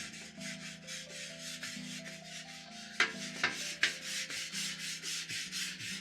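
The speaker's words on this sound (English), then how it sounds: "just hit it with the griddle stone, get it all nice and worked up here." A griddle stone scrubs across a flat-top griddle in steady rhythmic back-and-forth strokes, a close, coarse rasping that repeats evenly, with a few sharper knocks midway and no voices.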